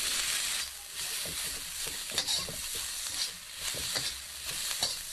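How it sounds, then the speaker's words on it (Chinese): Green peppers are dry stir-fried in a wok with no oil, for a vinegar-glazed pepper dish. A spatula scrapes and tosses them in irregular bursts over a crackling sizzle. "锅中不用倒油，我们先把辣椒的水分炒干。"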